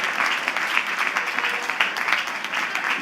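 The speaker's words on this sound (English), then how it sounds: "please give the members of an audience a big, big round of applause" A large audience at a college commencement ceremony breaks into a big round of applause, dense and loud continuous clapping from many people with no pauses.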